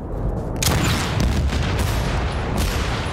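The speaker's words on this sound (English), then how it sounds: "Let's have a rifle grenade." In the Battlefield 1943 video game, a rifle grenade goes off as a heavy, booming blast amid rumbling gunfire, loud and sustained, with sharp cracks at the start and more impacts trailing through.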